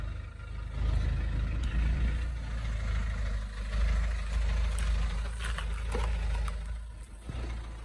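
A Citroen Berlingo van engine idles with a rattly, smoky running note: a steady low rumble close by, fairly constant throughout, with no one speaking.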